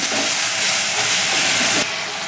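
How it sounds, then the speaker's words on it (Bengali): Spice paste with Kashmiri chilli and salt sizzles steadily in a pan while being sautéed for a mustard-poppy seed boal fish curry, a bright continuous hiss that drops slightly in level near the end. "এবার ভালো করে মশলাটাকে একটু দু তিন মিনিট কষে নেব"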